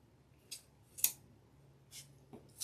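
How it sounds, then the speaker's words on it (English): Scissors snip the folded ribbon ends into dovetails for a summer floral swag, four or five crisp, close cuts spaced irregularly over near silence. "Just kind of fold it and cut it upwards."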